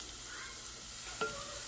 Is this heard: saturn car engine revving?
no